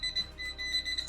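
A handheld induced-voltage tester beeps rapidly while held against an ungrounded extension cord, a thin, high-pitched series of short electronic pulses, close and alone.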